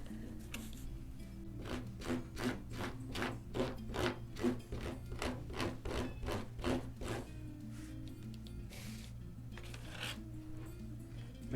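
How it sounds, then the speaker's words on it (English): A scraper drags across a snake skin to lift flesh, a run of rhythmic rasping strokes in a row, faint and close, then a few slower scrapes near the end. "Make sure to keep your scraper clean. It'll help lift and pull more of that flesh off at one time."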